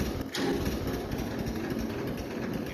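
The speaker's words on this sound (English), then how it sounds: "I don't think he should be idling like that." A tractor engine idles in Farming Simulator 22, a steady, rough mechanical drone with a brief knock near the start, continuous and fairly close, with no talking.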